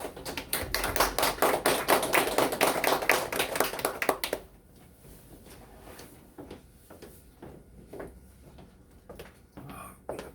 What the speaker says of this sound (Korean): 박수로 이렇게 맞이해 주시기 바랍니다